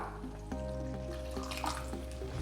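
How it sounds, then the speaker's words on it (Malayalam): Water poured into a pan while cooking chicken Manchurian, a short liquid splash and dribble starting partway through, heard close up over a steady background drone with no talking. "ഇതിലേക്ക് നമുക്ക് ഇനി കുറച്ച് വെള്ളം ആഡ് ചെയ്ത് കൊടുക്കാം"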